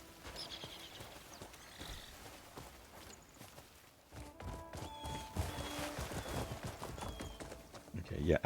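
Horse hooves clip-clop at a steady walking pace in Crimson Desert, moderately close and fairly faint, mixed with other game ambience.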